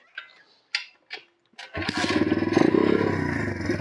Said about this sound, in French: On redémarre la brelle et on fait un réglage correct ce coup-ci.